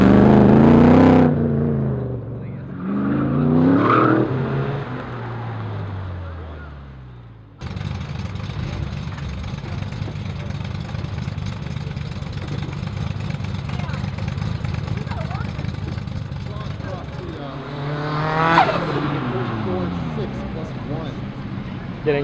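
Ford Focus ST and 2004 BMW E46 M3 on an autocross track: a steady engine drone runs at moderate distance, rising with a revving surge near the end, preceded by speech.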